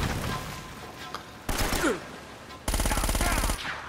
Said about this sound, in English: Micro 9mm. Let's see this. It's like a Uzi, I guess.